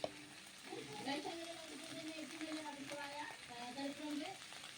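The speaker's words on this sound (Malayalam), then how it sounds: "ലേശം മുളക് പൊടി ഒന്ന് ഇളക്കി കൊടുക്കാം." Anchovy thoran with ground coconut paste and chili powder being stirred in a pan, a steady sizzle with soft scraping strokes close by, low voices murmuring faintly underneath.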